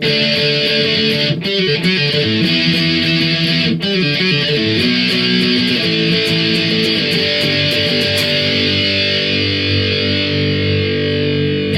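Distorted electric guitar plays a loud, continuous riff with sustained chords and quick note changes, steady throughout with no voices.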